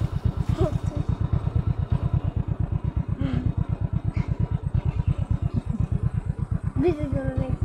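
A motorcycle engine thumps in a fast, even beat close by, holding steady throughout, while people's voices cut in briefly over the running motor.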